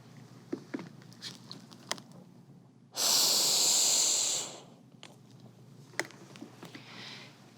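A single rescue breath given during adult CPR, a steady breathy rush of air lasting about a second and a half, loud and close, surrounded by quiet room noise.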